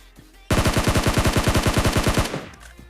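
Automatic gunfire in the battle royale game PUBG: a sudden, sharp burst of rapid shots in a steady stream lasting nearly two seconds, loud and close, then quickly tailing off.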